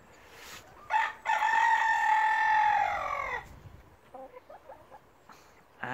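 Backyard hens on a smallholding give a loud drawn-out squawking call, followed by softer short clucks, close by with no talking.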